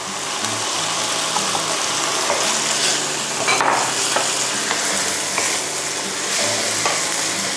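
Squid, fresh shrimp and coconut milk are stirred in a hot pan for pink coconut rice noodles, giving a steady bubbling sizzle with spatula scrapes and occasional clinks throughout.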